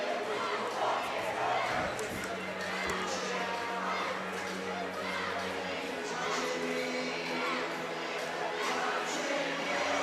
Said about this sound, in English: So we got Pickering Central crowd getting into it a little bit as they play Sweet Caroline.